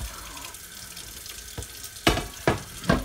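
Water runs steadily from a tap into a sink, with a few louder splashing scrubs toward the end, close by.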